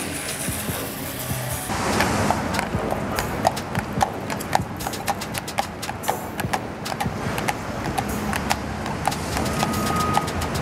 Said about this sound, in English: It's a horsey.